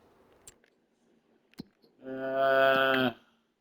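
Cow mooing in the farming video game Farming Simulator 25, a single drawn-out low moo of about a second, clear and fairly loud, after a few sharp clicks in an otherwise quiet scene.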